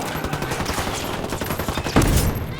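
Sustained game gunfire in Ghost Recon Wildlands, a fast volley of shots packed tightly over a steady loud din, with a heavier burst near the end.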